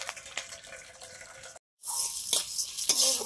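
Water from boiled banana flower is poured off, a trickling, splashing stream that stops briefly and then resumes louder and more gushing, with a few clinks.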